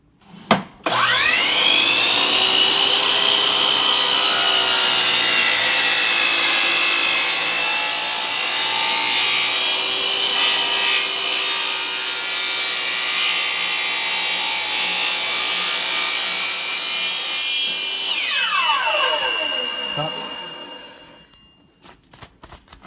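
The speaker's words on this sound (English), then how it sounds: "This one I'm going to do on the miter saw, same story." A miter saw slices slowly through wood for an aquarium sump build, with a loud whining cut lasting about eighteen seconds before the blade spins down and fades out.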